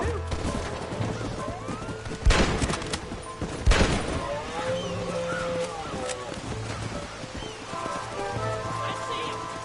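Gunshots in Red Dead Redemption ring out as two loud, sharp cracks a second or so apart over steady outdoor game ambience with horse sounds, and voices talk throughout.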